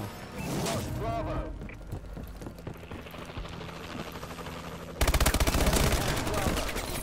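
Rapid bursts of machine gun fire from a Warbird aircraft in Call of Duty Advanced Warfare, loud and rattling, growing into a heavy, sustained barrage near the end amid other game noise.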